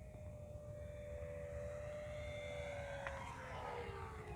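Dynam PT-17 RC model biplane flying in to land, its steady propeller and motor drone holding close and loud, with a sustained tone sliding slowly lower as it approaches.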